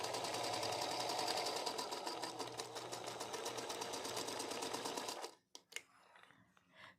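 A sewing machine runs steadily through a quilt seam for about five seconds, loud and close with a fast even stitching rhythm, then stops, leaving a few faint clicks and handling noises.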